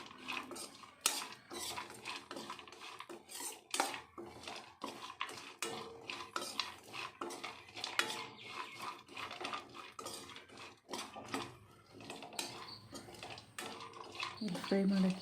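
A spoon stirs and scrapes cashews, raisins and almonds frying in ghee in a metal pan, with steady clinks and scrapes throughout and faint background talk.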